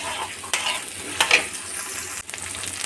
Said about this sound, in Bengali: এই সবজিগুলোকে দিয়ে হালকা করে একটু ভেজে নিচ্ছি